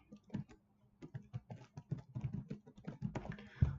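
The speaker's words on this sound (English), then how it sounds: "I'm just gonna enter my email again" Typing on a computer keyboard to fill in email and password fields on an online university application form, a quick run of close, crisp key clicks with no talk.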